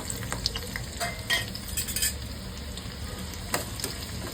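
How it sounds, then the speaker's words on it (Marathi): Onion fries in hot oil with a green paste of ginger, garlic, coriander and chillies, giving a close, steady sizzle broken by brief clinks and scrapes of a ladle stirring. "आता मी दोन पळी तेल घातलेलं आहे आता त्याच्यानंतर हा कांदा"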